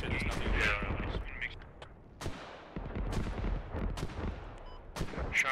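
Mortar shots fire in the Star Wars game Galactic Contention, giving a series of separate booming thuds over several seconds with faint voices and background battle noise between them.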